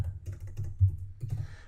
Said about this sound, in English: Let me just type it in.